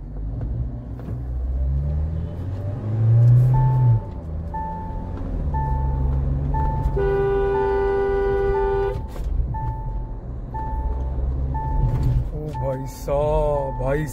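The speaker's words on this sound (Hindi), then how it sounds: "पीछे से देख रहे हो कैसे आवाज कर रही है गाड़ी।" A Mahindra Thar off-road SUV's engine rumbles and revs steadily at close range throughout, while steady horn-like tones sound repeatedly over it and voices talk in the background.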